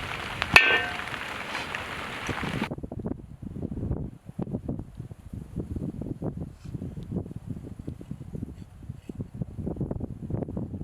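Rain falls outdoors where omelettes are being cooked, a brief louder hissing burst at first, then soft, uneven pattering drops that continue quietly throughout, with no voices.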